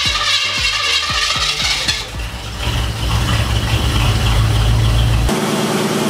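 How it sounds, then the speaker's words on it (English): An engine with FiTech fuel injection runs at about 2000 RPM, starting with a few sharp rhythmic clicks and then settling into a steady loud hum close by, with a sudden shift near the end. "The book recommends that you do this at about 2000 RPMs."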